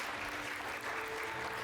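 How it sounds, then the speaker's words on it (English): Steady applause from an audience at an evening physician storytelling event, dense even clapping throughout with no voices above it. "so I also a huge round of applause for Naomi,"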